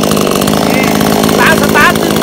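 A freshly tuned YUSEN 4216PLUS chainsaw engine runs loud and close, with a continuous buzzing drone that briefly rises in pitch as it revs.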